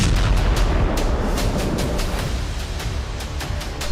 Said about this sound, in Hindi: इजराइल सीरिया पर बम बरसा रहा है